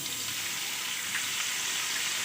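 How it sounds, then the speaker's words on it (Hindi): Water poured into a hot pan of cumin seeds hisses and sizzles as a steady, fairly loud broadband rush that holds evenly from start to finish, with no talking. "इसमें थोड़ा सा पानी ऐड करेंगे"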